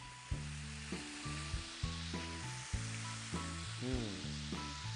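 Bacon frying in a pan over low heat, a steady hiss of fat crackling beneath louder low tonal bursts and clunks that recur about every second, close by.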